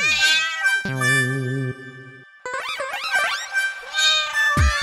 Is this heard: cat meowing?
yes